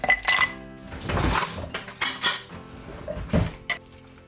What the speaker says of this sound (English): Add my coffee and my ice.